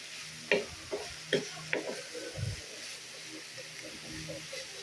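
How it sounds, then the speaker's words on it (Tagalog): Seasoned bitter gourd (ampalaya) being stirred in a frying pan, a few sharp utensil scrapes and clacks early on over a faint, steady sizzle, with softer stirring noises trailing off. "Halo-haloin na natin saglit."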